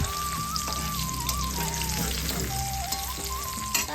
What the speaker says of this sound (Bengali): এখন শিম ভাজা বেগুন ভাজা এখানে কুমড়ো ভাজা হচ্ছে